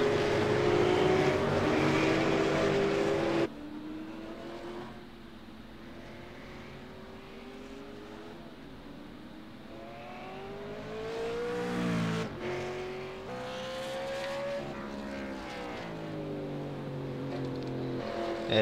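Several race cars in the iRacing sim rush through a chicane, their engines revving and shifting pitch, loud at first, then a quieter, steadier drone with rising and falling tones as cars accelerate and pass.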